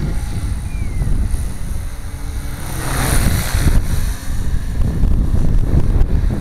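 A Gaui Flight 60 RC helicopter, freshly lubed, flies outdoors, its rotor and motor whine steady under heavy wind buffeting on the microphone, loud and continuous for several seconds with no voices.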